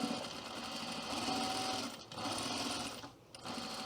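A sewing machine runs a steady stitching burst on a skirt seam, pausing briefly about halfway and again near the end before resuming, close and moderately loud with no talking.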